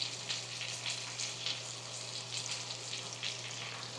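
Steak frying in a pan gives a steady, close sizzle with crackling spatters pulsing irregularly over a constant low hum, with no voices.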